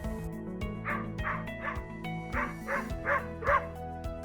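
A dog gives a rapid series of about seven yips and whimpering barks, close and fairly loud, over a steady low electrical hum.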